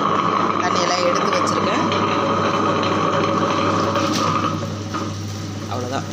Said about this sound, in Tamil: உளுந்தை போட்டு அரைக்க வேண்டியதான்